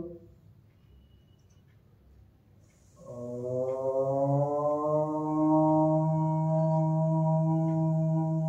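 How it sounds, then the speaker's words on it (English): Single voice chanting a sustained Om as a prayer to close a power yoga session, a steady harmonic drone rising after a quiet breath and holding for several seconds, no other talk. "We will chant Om Kar sound and Santi mantra."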